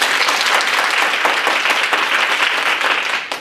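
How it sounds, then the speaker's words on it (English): Loud, dense audience applause fills a leadership talk venue in Kuala Lumpur, many hands clapping together in a sustained roar that holds steady before fading out near the end. "Give yourself a round of applause."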